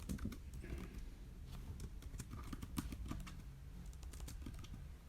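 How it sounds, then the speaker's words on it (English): Someone typing on a computer keyboard while entering a MySQL database command: a quick, uneven run of soft key clicks that continues throughout, fairly quiet, with no voice heard. "we type use, and we type in the name of our database"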